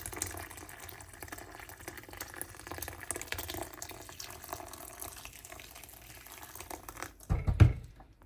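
Boiling water poured into ginger juice, a soft steady pouring trickle that runs quietly throughout, then swells into a louder splashing gush near the end.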